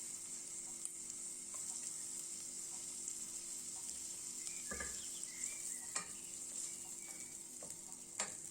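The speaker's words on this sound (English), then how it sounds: "Now we will start by frying some onion in the butter and oil till we get the aroma." Onion frying in butter and oil, a steady close sizzle throughout with a few soft stirring clicks and scrapes, no voices.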